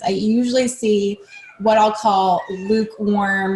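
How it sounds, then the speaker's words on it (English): A house cat meows several times close to the microphone, its repeated cries mixed in with someone talking over it. "I'm sorry, that's my cat chiming in there."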